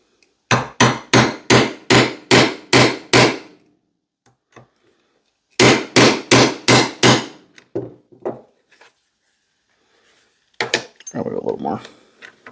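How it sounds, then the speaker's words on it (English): Hammer strikes setting rivets with a homemade rebar rivet-setting tool while repairing an axe sheath: two fast, loud bursts of about eight sharp blows each, then a few lighter scattered taps and a short rustle. "And I've got my homemade rebar rivet setting tool."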